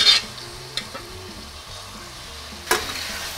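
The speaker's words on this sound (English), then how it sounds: "So now we're gonna take the chicken and just throw it in the frying pan." Chicken pieces land in a hot frying pan and sizzle with a brief burst, then a quiet steady fry with light stirring clinks and a second sharp sizzle near the end.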